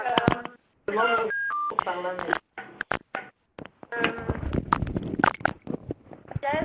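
Telephone keypad tones on a conference call line, a few short steady beeps near the start amid a French-speaking voice that runs through most of the clip.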